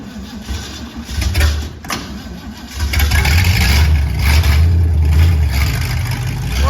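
Crosley hot rod engine cranking and catching after a stuck clutch, then running rough and loud nearby as it is put in gear, with faint talk in the background.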